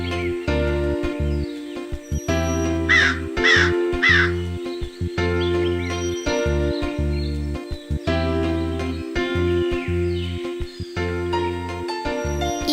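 Cartoon crows cawing loudly and repeatedly in rhythmic bursts over steady musical tones, the harsh calls close and prominent.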